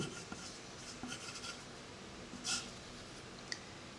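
A pen scratches across paper in a quiet room during French database study notes. Soft, close scribbling strokes run throughout, with a couple of brief sharper taps and no speech.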